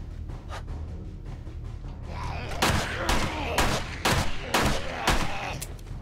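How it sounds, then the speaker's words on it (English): Nail gun firing in 7 Days to Die Alpha 21: a burst of sharp, loud, rapid shots, about half a dozen in quick irregular succession, following a quieter stretch with a gasp. "that's a nail gun he had"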